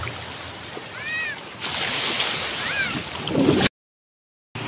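Sea waves splash and slosh at a beach in San Fabian, Pangasinan, Philippines, with a steady wash of water and rising surges, while voices shout and call out over it before a brief silent gap.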